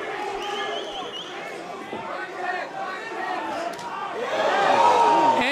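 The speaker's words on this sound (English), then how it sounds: "that had the crowd buzzing" Boxing arena crowd murmurs and buzzes after a left hook lands in the Junior Wright bout, a commentator talking over the steady hum that swells louder toward the end.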